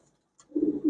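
A single short low coo from a male racer pigeon, close and alone after a moment of near silence.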